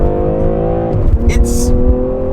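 BMW G20 M340i launching hard from a stop with slight wheelspin: steady rising engine note with strong low rumble and a brief high tire squeal, a voice talking over it throughout.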